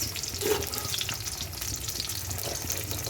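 Chopped onion fries in a small amount of oil in a pan, with a soft, continuous crackling sizzle that stays fairly quiet and even throughout.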